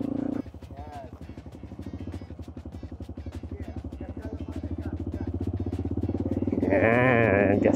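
Motorcycle engine revving as the rider opens the throttle on a rough road, a rapid pulsing drone building louder toward the end, with a voice talking briefly over it near the start and a rising whine at the close.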